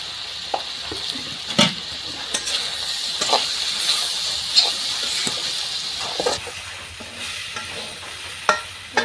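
Cumin seeds frying in a pan for a pea curry, a steady hiss of sizzling oil with scattered scraping stir clicks of a spoon, close and continuous with no talking.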